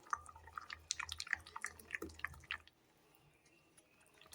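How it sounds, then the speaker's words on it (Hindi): Wet squishing and soft dripping as a roasted spice mixture is stirred into yogurt, a close, quiet run of sticky sounds lasting a couple of seconds before silence. "अब मैंने सारा मिक्सचर इस दही में डाल लिया है। अब हम इसे मिक्स करेंगे।"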